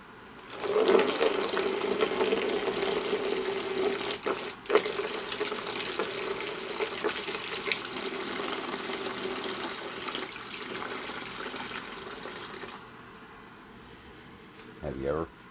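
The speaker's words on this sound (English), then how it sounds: "Shoving its face under the pouring water. That's cold water, that's from the Brita container in the fridge." Cold water pours steadily from a Brita container as a cat pushes its face under the stream, a continuous near splashing flow that lasts several seconds before cutting off, with a brief clatter at the end.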